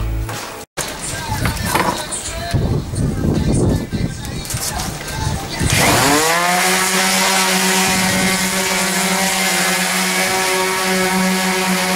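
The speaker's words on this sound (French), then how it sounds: "je vais poncer à la ponceuse hein, pour essayer de virer un petit peu tout le côté pourri dégueulasse là." A power sander works over a rotting, mould-flecked wooden halberd shaft. Mixed rustling and handling noise comes first, then the sander starts and runs with a steady, loud, droning whir to the end.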